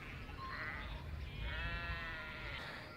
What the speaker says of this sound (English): there's a sheep stampede